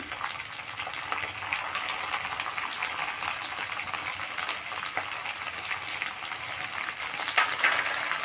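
Chopped tomatoes fry in hot oil in a pan for banana-flower dalna, a loud, steady close-up sizzle and crackle that continues throughout with a brief brighter spatter near the end.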